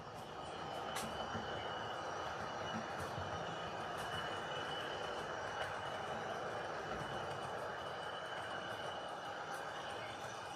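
Model train running on a layout of code 83 flex track: a steady, faint rolling rumble with light rail clatter and occasional clicks, continuous throughout, with no one talking.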